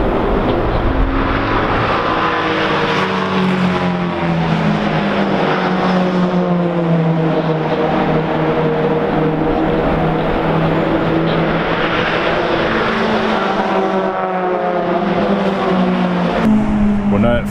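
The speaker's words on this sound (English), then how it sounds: "what you can hear is the classic 24-hour race mid-race" Engines of race cars at the Nürburgring 24 Hour race roar past continuously, with rising and falling pitch as several cars sweep by at close range, loud and sustained throughout.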